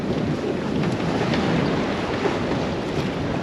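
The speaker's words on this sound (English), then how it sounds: "The wind is picking up again." Wind rushes steadily over a sailboat under way on a beat, a broad, constant roar buffeting the microphone without pause, with faint water noise beneath and no voices.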